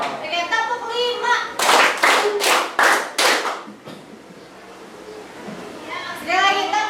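Children in a classroom clap out a counted five-beat pattern, giving five sharp, evenly spaced claps loud and close, with a child's and an adult's voices before and after the claps.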